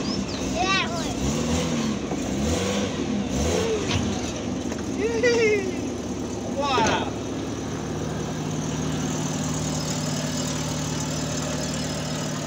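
A car engine idles with a steady low hum and rises into revving, with children and an adult shouting and talking excitedly over it throughout.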